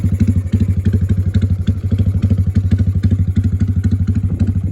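A Honda Wave 110i motorcycle engine idles close by, its loud, steady low putter thumping rapidly with a light mechanical clatter on top.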